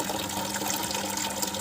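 Water running from a tap into a container at a home veranda, a steady close hiss of flowing water with no talk.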